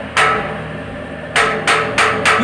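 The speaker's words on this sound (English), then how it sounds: "I take a hammer," A hammer taps a tool held against a ship's main engine piston ring: five sharp metallic strikes, one early and then four in quick succession, ringing close and loud over a steady engine-room hum.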